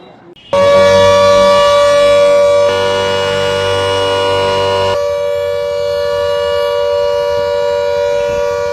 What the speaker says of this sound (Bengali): যুদ্ধের আবহে মালদায় বাজল সাইরেন তবে মোহরা হিসেবে